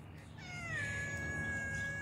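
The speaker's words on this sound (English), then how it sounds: "He's a kitty cat." A pet cat meows once in a rising, drawn-out call that holds steady for over a second, close and fairly loud over a low rumbling background, with no talking.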